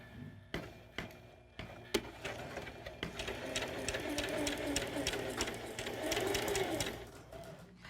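A sewing machine runs steadily, stitching scrap fabric along a tight curve for a small change purse, with a few brief starts and stops before a continuous whirring run.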